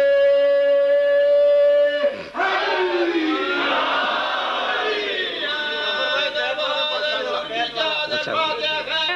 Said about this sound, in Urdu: سب مل کے بولو نعرے